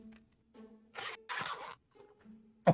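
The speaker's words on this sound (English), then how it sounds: "Did I hear the sound of a zipper pouch that you keep this magnifying glass in?" A zipper on the small carrying pouch for a magnifying glass, pulled in two quick rasping strokes close by, followed by a soft handling click.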